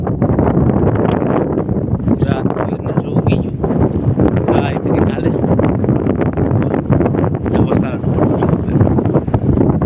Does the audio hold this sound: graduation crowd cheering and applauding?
no